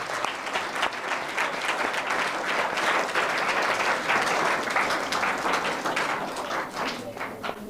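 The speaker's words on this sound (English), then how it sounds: "So clap for these students also." Sustained audience applause for students at an intra-school English debate competition, a dense steady wash of many hands clapping throughout, fairly loud and close, with no clear speech over it.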